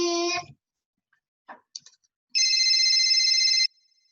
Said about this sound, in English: the mobile phone goes ring, ring, ring